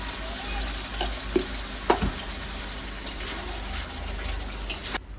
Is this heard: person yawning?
no